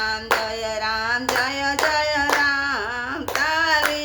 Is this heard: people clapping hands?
yes